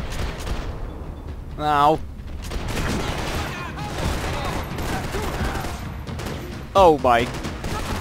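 Gunfire in the video game Max Payne 3 comes in scattered bursts of shots and impacts over busy game sound, with a player exclaiming now and then.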